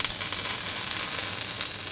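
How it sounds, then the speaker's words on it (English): Welding at an industrial site, a continuous crackling, sizzling hiss with irregular pops and bursts, moderately loud and close, with no voices present. "welders,"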